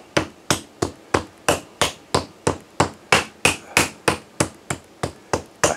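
Raw chicken breast being pounded flat to about half an inch for the grill, with about sixteen sharp mallet thuds landing in a steady, even rhythm, loud and close with no talking.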